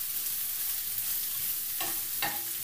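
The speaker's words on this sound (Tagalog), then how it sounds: "Haluin lang guys hanggang sa medyo maluto ang ating mga sangkap." Chopped ingredients sautéed with stirring in a little oil for ginisang sayote with sardines give a soft continuous sizzle close by, with two brief utensil scrapes near the end.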